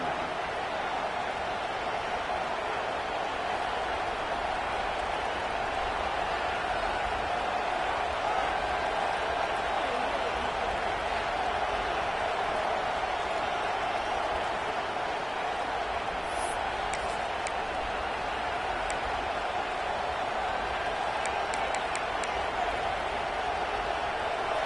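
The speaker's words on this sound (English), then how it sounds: "This crowd trying to do its part to get inside the kicker's head." Steady roar of a college football stadium crowd during a timeout before a fourth-down play, a dense, continuous wash of distant voices and noise that holds level throughout with no clear breaks.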